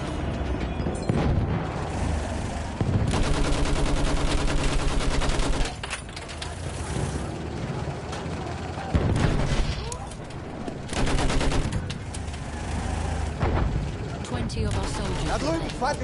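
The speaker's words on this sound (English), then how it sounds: "Feindliches MG gesichtet." Enemy machine gun fire in a World War One video game, dense bursts of rapid shots in several long volleys separated by short pauses, loud and close, with rumbling booms and clatter mixed in.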